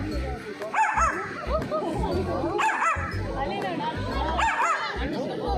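A person imitates a dog with a series of short, barking vocal yelps, repeated roughly every second over a busy background of chatter at a safari park in Hamilton, Ontario.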